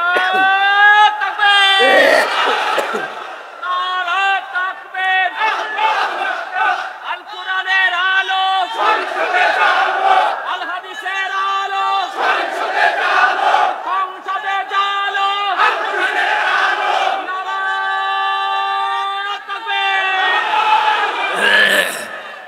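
A large crowd at an outdoor Islamic sermon in Nilphamari shouts the takbir in response, loud unison chanted phrases in repeated waves, each call rising and falling, with the preacher's voice heard between them.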